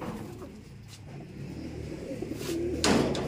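Breeder hens cooing softly in an aviary, low faint coos under a quiet background, with a brief passing engine-like swell near the end.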